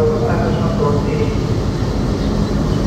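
Dhalarchar Express pulling out of Rajshahi railway station behind locomotive 6525, a steady, heavy rolling rumble that fills the whole stretch, with a voice speaking over it.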